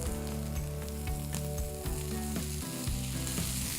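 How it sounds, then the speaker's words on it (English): Freshly chopped onions and tomatoes sizzle steadily in a hot pan for upma, a loud continuous frying hiss with occasional stirring clicks, no talking. "We're going to add in some freshly chopped tomatoes."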